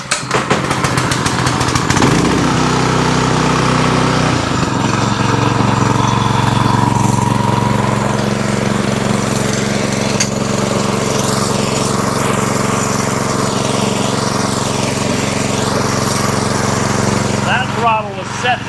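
A Predator 212cc small engine, fitted in an E-Ton engine swap, runs steadily after a pull start, loud and close with a constant droning hum for most of the clip before cutting off near the end.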